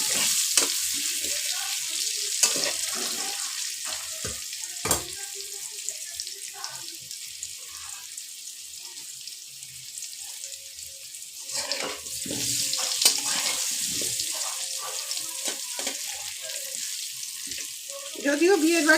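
Potatoes fry in hot oil for a wedding-style mutton curry, giving a steady moderate sizzle broken by scattered clinks and scraping sounds from the pan.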